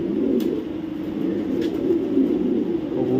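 A racing pigeon from 2022, flown in about eight to ten races with the BRPL club, coos in a low, steady, fairly loud drone that runs unbroken through the whole stretch, with no talking.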